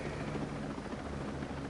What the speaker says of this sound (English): I got visual detection on a fucking helicopter.